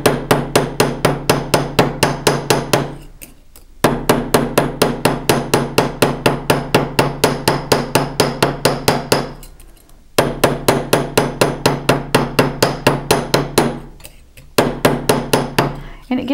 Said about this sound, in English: So I'm pulling the metal out and away as I strike.